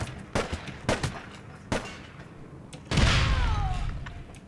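Several sharp gunshots in the PC game APB Reloaded ring out at irregular intervals, followed by a louder sustained burst of noise with a descending whine.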